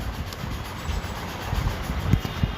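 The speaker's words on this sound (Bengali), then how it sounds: "ট্রেন আসছে" A train rumbles near a station platform with a low, rolling rumble and a few sharp clacks that grow slightly louder toward the end, heard without talk.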